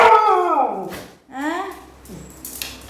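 A nearby dog lets out long, wavering howls mixed with a few short barks, rising and falling in pitch over a few seconds with brief pauses between.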